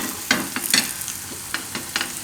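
Dudhi bateta uttapam, a bottle gourd and potato pancake, cooking in oil on a pan over medium gas, giving soft sizzling with several sharp scraping and stirring clicks from a spatula at irregular intervals.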